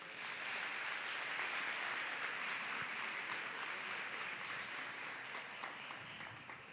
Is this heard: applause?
yes